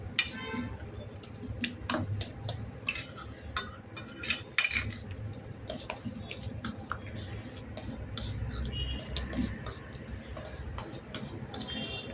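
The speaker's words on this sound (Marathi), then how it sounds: "व्यवस्थित एकजीव मिक्स करून घ्यायचं आहे." Spoon scraping and clinking in a pot as hot cooked red pumpkin is mixed with jaggery for gharge, soft irregular metallic taps and stirring, close and quiet, continuing for about twelve seconds.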